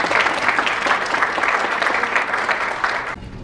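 Dense, sustained applause from a dinner audience at a CBMC Central regional association homecoming banquet, loud and steady throughout, tapering off at the very end.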